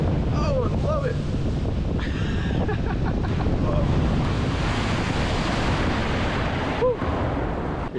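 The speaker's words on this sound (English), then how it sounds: "So that is the first like little kind of splash down that you have there" A water ride boat on Catapult Falls at SeaWorld San Antonio splashes down amid loud, continuous rushing water and wind roar, with riders' brief whoops and shouts rising over it.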